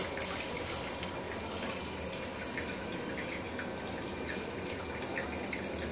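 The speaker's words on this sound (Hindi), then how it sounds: "make a hole at bottom fill the bottle with water" Water streaming from a hole near the bottom of a filled bottle, a continuous hissing, splashing pour that stays close and steady throughout, with no voices.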